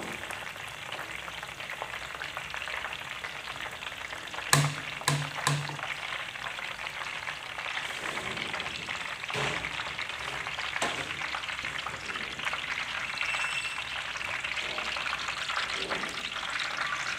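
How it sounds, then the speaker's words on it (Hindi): Besan sev frying in a pan of hot oil, a steady dense sizzle running throughout, broken by a few sharp clatters and knocks of a utensil pressing and moving the strands. "हल्का सा दबाऊंगा ताकि सबको अच्छी तरह सेक लग जाए फ्राई हो जाए"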